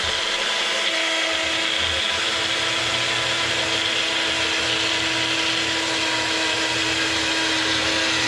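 A Magic Bullet blender blending sauce whirs loudly and continuously for several seconds, a steady grinding motor drone with no pauses or speech.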